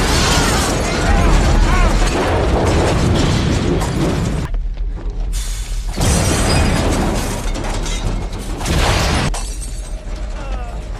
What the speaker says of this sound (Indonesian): tiba-tiba sebuah bus meledak yang tidak jauh darinya.